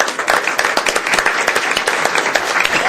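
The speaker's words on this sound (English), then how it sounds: "One more applause for that." Brief round of audience applause at a city council meeting, a lively burst of many hands clapping, moderately loud and continuous for a few seconds.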